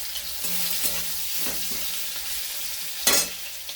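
Potatoes hiss in hot oil with black cumin and green chillies, a steady near sizzle with stirring clatters and a sharp burst of spitting toward the end.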